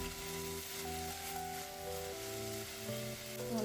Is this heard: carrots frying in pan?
yes